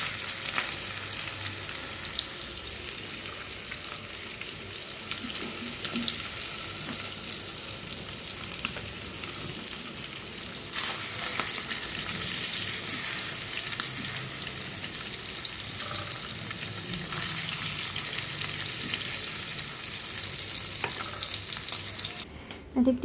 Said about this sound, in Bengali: এখন অন্য মাছগুলো আমি ভেজে নেব